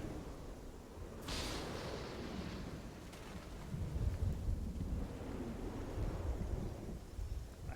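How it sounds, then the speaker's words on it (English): Thunder in the Black Myth: Wukong video game rolls as a low, rumbling swell under a steady wash of rain and wind-like noise, with a brief bright crackle early on and no talking. "I heard thunder and lightning."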